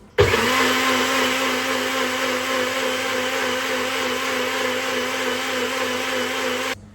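A blender whirs steadily for several seconds, blending the liquid ingredients for mango cinnamon rolls, starting abruptly and cutting off at the end, loud and close with no talking.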